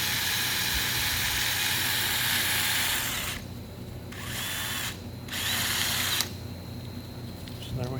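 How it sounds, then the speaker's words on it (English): Wood spinning fast on a rotating tool while being sanded with high-grit sandpaper for a handmade sewing awl: a loud continuous motor whir that drops in level twice and then resumes, close by. "the wood, because this is rotating so fast, the wood actually helps to polish itself as it builds up in the sandpaper"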